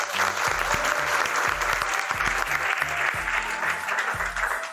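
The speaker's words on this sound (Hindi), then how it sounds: "उसके लिए भाई विनोद जी के लिए एक बार ताली बजाओ" An audience of students at a defence academy claps steadily, a dense, even applause, alongside rhythmic low beats, with faint speech in the background.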